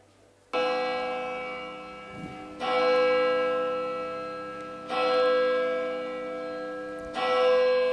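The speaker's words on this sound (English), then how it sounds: "The Angelus bell from the Viragalur Vyakulamada Church" The Angelus bell of the Viragalur Vyakulamada Church rings out in three or four loud, resonant strikes. Each strike rings on with a long sustained hum before the next, and no voices are heard.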